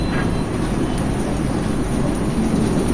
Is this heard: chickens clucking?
no